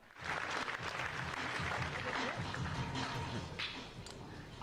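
Crowd applause at a live gaming expo keynote swells and holds steady at moderate loudness, with a low murmur underneath and a sharp bump at the very end.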